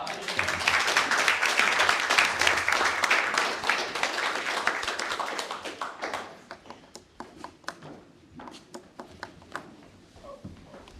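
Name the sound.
audience applause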